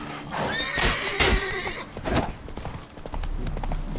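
Roach the horse in The Witcher 3 video game: hooves clip-clop at a gallop while a loud, clear neigh rises up near the start, with game sounds around it.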